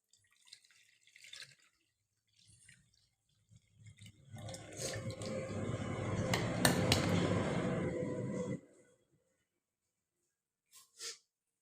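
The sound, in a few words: straining blended green mango buttermilk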